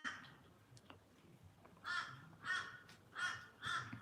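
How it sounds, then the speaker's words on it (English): Crows cawing outdoors: four harsh, evenly spaced caws in the second half, moderately close and clear over quiet background, with no talking. "Oh, can you hear those crows?"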